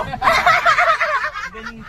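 A chicken clucks in a rapid, chattering burst of nasal calls, close by, with a brief lower sound near the end.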